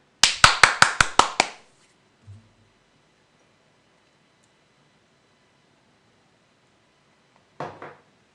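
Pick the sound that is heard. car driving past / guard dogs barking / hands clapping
hands clapping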